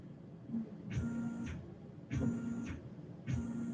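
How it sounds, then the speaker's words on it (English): A CNC machine's Z axis is raised manually, giving three short motorized whirring bursts with a steady hum, each lasting about half a second to a second, spaced evenly apart over a quiet shop background. "now manually pull the Z up"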